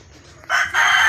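A rooster crows loudly and close by, a drawn-out two-part call rising over a quiet yard.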